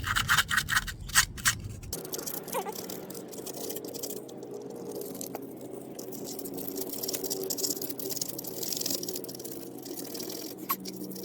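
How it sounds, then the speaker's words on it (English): Rust is scrubbed off a small metal trailer light part, making close, steady scratchy rubbing that runs on after a brief burst of louder scraping at the start, with no voices. "I gotta get this rust off of here."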